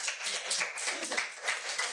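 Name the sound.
audience applauding speaker at school board meeting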